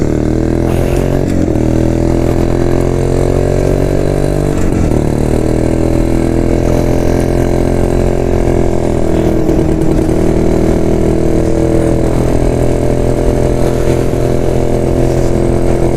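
A 1972 Jawa motorcycle engine runs loudly and continuously at close range, a rough two-stroke-style idle with slight shifts in pitch and no voices.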